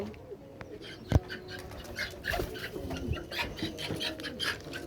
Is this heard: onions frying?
no